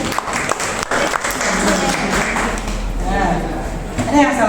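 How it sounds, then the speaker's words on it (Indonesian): Students clap in a classroom during an Islamic inheritance lesson, uneven scattered claps mixed with chatter and voices, fairly loud and close. "Oke, tepuk tangan."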